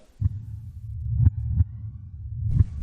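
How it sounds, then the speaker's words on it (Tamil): Heartbeat sound effect with deep, muffled thumps coming every second or so, each a soft low throb over a quiet hum, with no voices. "இப்போ உங்கள் ஹார்ட் பீட் கேட்குறாரு"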